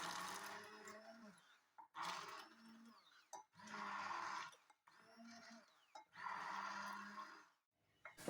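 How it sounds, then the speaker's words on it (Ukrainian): A blender purées a plum jam sauce in repeated bursts, a loud whirring motor running for about a second each time with short pauses between, close up. "Соус подрібнюю блендером."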